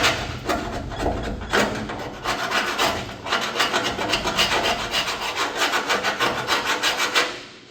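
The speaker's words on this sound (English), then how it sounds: "I need to scrape that off" A scraper rasps underlay off the wheel tub of an FB Holden gasser build, giving quick repeated scraping strokes that grow into a dense rhythmic rubbing, close and fairly loud with no talk.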